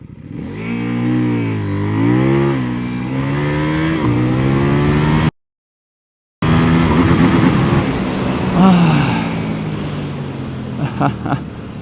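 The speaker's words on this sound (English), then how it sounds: "somehow I just managed to launch NK800 with no traction control" A 2024 CFmoto 800NK motorcycle launching hard with traction control off, its engine revving and climbing through gears in loud, close sweeps, cutting out briefly before roaring on again with wind noise.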